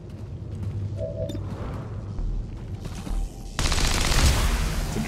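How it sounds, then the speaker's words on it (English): Uzi gunfire in XCOM 2: War of the Chosen, a sustained clatter of rapid shots with a louder burst near the end, mixed with game effects. "It's an Uzi."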